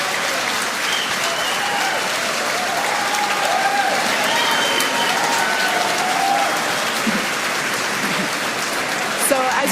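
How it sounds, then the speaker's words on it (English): A crowd cheers and applauds after a Falcon 9 booster lands on a drone ship, a steady broad wash of clapping and shouting that continues throughout at moderate level. "you can hear from the crowd cheers here"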